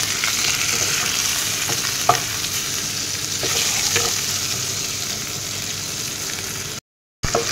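Fish heads frying in home oil with ginger on low heat give a steady, close sizzle with occasional stirring scrapes, and the sound drops out for a moment near the end.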